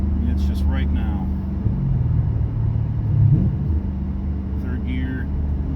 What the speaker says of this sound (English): I love the rev match.